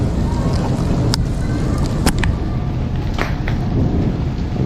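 Heavy rain pours steadily during a storm, with several sharp, loud thunder cracks bursting through the constant downpour.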